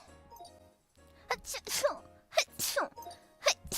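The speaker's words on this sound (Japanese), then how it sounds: "やばい、くしゃみ。" A couple of sharp sneezes burst out close by amid quiet room noise, followed by brief breathy sounds.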